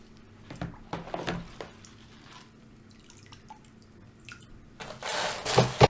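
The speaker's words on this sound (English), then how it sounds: "the way that I found works the best to strain the mosquito bits is just to use one of my large sieves" Water runs through a large sieve while mosquito bits are strained out, heard as scattered drips and splashes that swell into a louder pouring rush near the end.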